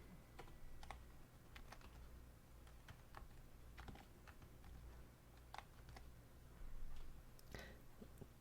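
Fingers type on a computer keyboard during a programming lesson, irregular clicking keystrokes close to the microphone, quiet, with short pauses and occasional quicker runs.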